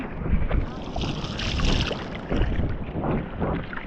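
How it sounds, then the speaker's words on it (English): Strong wind blowing steadily across the microphone at a beach by the surf at Diamond Head, a loud continuous roar and buffeting rumble with no talk. "Some more wind today."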